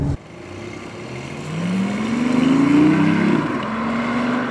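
A BMW i8 hybrid sports car driving in sport mode with its gas engine mostly running, giving a steady engine drone that swells and rises in pitch as it accelerates, then settles into an even cruise.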